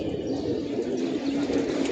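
A flock of young pigeons takes off and climbs over a large mosque, wings flapping in a steady rustle with faint bird calls, no talking.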